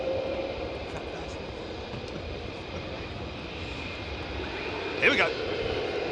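An F-35 jet roars steadily at RAF Lakenheath, a broad distant rumble with a brief louder swell near the end, while people talk nearby.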